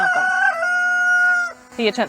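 A rooster near a chicken coop lets out a loud, close crow with a long sustained note that cuts off sharply, followed by a brief squawky tail.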